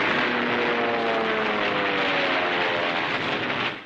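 The propeller engines of a wartime bomber give a loud, steady, droning roar with a throbbing tonal hum that holds for several seconds and then cuts off.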